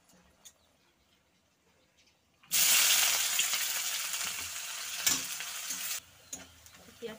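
Onion and garlic go into hot oil with dried chillies, bursting into a sudden loud sizzle after a quiet start, crackling steadily with stirring clicks before abruptly dying down to faint taps near the end.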